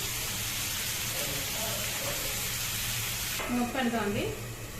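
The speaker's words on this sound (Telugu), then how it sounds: "టమాటా వేపాలి బాగా" Chopped tomatoes fry in oil with onions in a pan for a prawn curry, giving a steady, close sizzle throughout, and a voice talks over it near the end.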